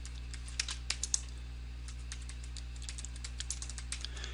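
Typing on a computer keyboard, a run of light, irregular key clicks with a few sharper taps, close up over a low steady hum, no voices.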